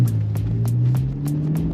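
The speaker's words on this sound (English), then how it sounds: "I just love how this V8 just winds up" A BMW F10 M5 sedan's V8 with an aftermarket exhaust drones loudly and close, its engine note holding and shifting pitch while sharp pops crackle at regular intervals.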